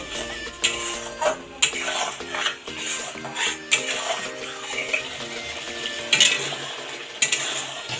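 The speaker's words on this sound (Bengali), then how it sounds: "মশলাটা ভালো করে কষিয়ে নেব।" Spice paste with Kashmiri chilli powder is stir-fried in a pan, a busy sizzle punctuated by repeated scraping and clinking of a spatula against the metal, close and fairly loud.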